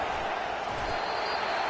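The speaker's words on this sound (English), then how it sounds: "They challenge this crowd to bring the energy, and I'd say they're doing that." Stadium crowd at an LSU football game roaring in a steady, dense wash of cheering that fills the whole stretch without letup.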